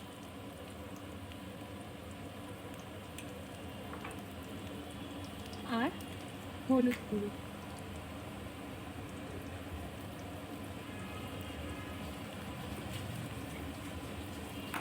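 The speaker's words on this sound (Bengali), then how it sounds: "বন্ধুরা এইদিকে মশলাটা অনেকটাই ভাজা ভাজা হয়ে এসছে" Spice masala fries in a pan while salt and turmeric powder are added for a tilapia fish dish, a soft, steady sizzle close by with a few clinks partway through and a voice speaking briefly over it.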